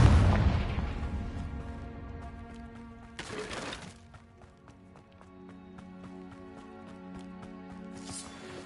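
A Confringo spell explosion in the Hogwarts Legacy video game opens with a loud, booming blast that fades out, followed by a short burst of noise and a softer rhythmic, tonal game sound.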